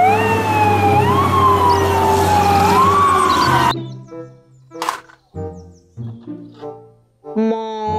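A toy fire truck's electronic siren wails loudly, rising and falling for almost four seconds, then cuts off abruptly. A voice follows with brief spoken phrases.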